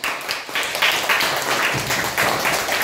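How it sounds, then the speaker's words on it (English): A classroom of children applauds a team during a school sequencing activity, a steady wash of clapping lasting throughout, fairly loud and close with some voices mixed in. "Give a big round of applause."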